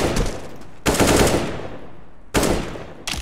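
Rapid automatic gunfire from a video game shooter comes in loud, dense bursts separated by short gaps, with a final burst starting at the end.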